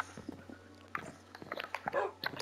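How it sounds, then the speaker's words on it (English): Minecraft dogs in a peaceful game world give soft, brief in-game yips and panting noises, scattered and close, with small bursts of activity toward the end. "we have these dogs here. We have 5 dogs."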